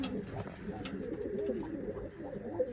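Pigeons in a coop give soft, low, intermittent coos over a quiet, faint background.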